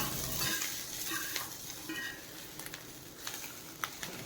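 Food fries to a crispy finish, sizzling steadily in a pan while a utensil stirs and scrapes, with a few light clinks of metal.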